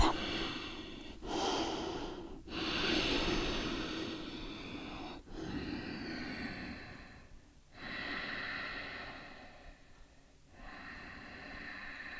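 Slow, deep yoga breaths taken on all fours, each long inhale and exhale heard close and airy, separated by short quiet pauses.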